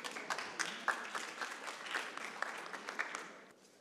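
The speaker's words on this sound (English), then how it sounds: "Can we get a better round of applause?" Audience applause at the closing keynote plenary of the California Land Recycling Conference 2025, a steady patter of many hands with sharper individual claps, fairly faint and distant, tapering off near the end.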